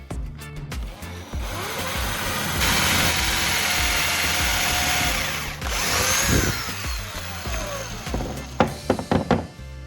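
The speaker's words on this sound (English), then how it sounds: "Next, I'll drill a hole right at that marked point." A power drill bores a hole into a workpiece at a marked point, whining steadily for several seconds at close range, briefly pausing and restarting, then ending in a few clunks and knocks as it is handled.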